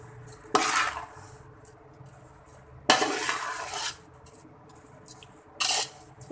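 Rice and sugar for zarda are stirred in a cooking pot off the flame, three separate bursts of scraping and rustling against the metal with quiet gaps between them.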